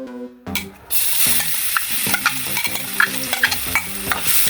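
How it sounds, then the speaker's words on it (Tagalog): Oil sizzles loudly in a frying pan for a kikiam sauce, a continuous close hiss broken by repeated clanking stirs of a utensil against the pan. "Maglagay tayo ng mantika sa kawali."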